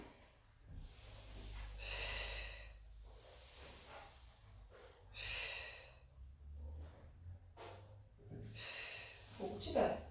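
Three or four deep breathing cycles during a Pilates exercise, each a breathy inhale followed by a long audible exhale, close and fairly quiet, with a soft low hum underneath and no talking.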